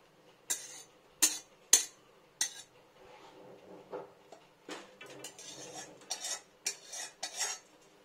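Cooked pointed gourd curry is eased out of a pan, a metal spoon scraping and clinking against it in a series of separate, close strokes, quick sharp knocks first, then softer, longer scrapes.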